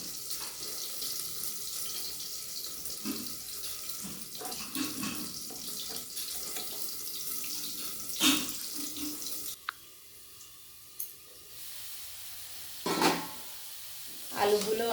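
Spice-rinsing water splashes into a pan of frying potatoes, a watery hiss over steady sizzling with sharper bursts of splash and spatter near the end.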